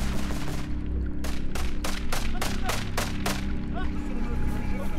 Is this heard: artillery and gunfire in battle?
yes